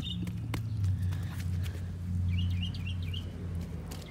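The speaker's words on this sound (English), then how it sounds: "the birds are singing today." Birds sing in a vegetable garden, high chirps and short trills scattered over a low rumbling background, with occasional soft knocks and no talking.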